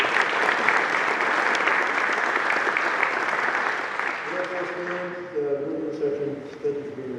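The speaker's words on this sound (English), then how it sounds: "So just a round of applause for all" An audience at a military medical wing change of command ceremony applauds loudly for several seconds, then the clapping fades as a voice begins speaking over the tail end.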